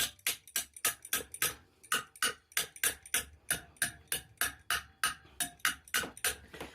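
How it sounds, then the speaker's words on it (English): A hammer strikes a part onto a motorized bicycle in a fast, even series of sharp metallic knocks, about three per second, close and clear with no talking. "I'm just going to hammer it on there."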